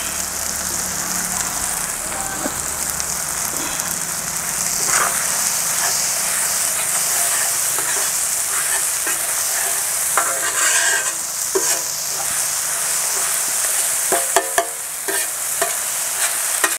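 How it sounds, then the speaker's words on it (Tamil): Cumin seeds sizzling in hot oil for a Kerala-style fish fry cooked outdoors in a village: a steady, bright hiss and crackle runs throughout, with scattered pops and stirring scrapes, close and continuous, without talk. "இப்போ சீரகம் போடுறேன்."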